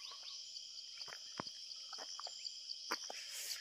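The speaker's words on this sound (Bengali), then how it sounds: "পুরো একটা ঝিঝি পোকার আওয়াজ" Crickets chirp steadily at night in the core forest of Similipal Tiger Reserve, a continuous high insect trill with a few faint scattered calls and clicks over quiet woodland.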